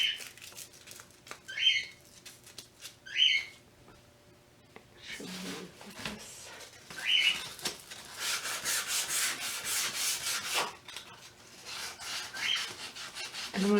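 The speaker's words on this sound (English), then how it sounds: "So I'm going to sand this using my 220 grit sandpaper." Wood is hand-sanded with 220 grit sandpaper, giving soft, intermittent scratchy rubbing strokes, a few brief ones first and then a longer, busier stretch of back-and-forth sanding, close and fairly quiet with no talking.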